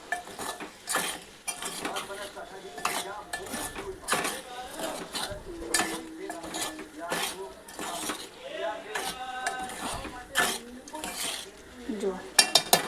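Cooked pasta, made without onion or garlic, being gently stirred in a metal pan, with a steady run of soft scrapes and clinks of the spoon against the pan and a few sharper knocks at the end, heard alone up close.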